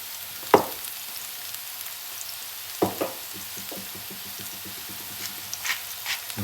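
Onion and garlic frying in a pan for seafood pasta, giving a steady soft sizzle with a few sharper clatters of stirring, close and fairly quiet, no talking.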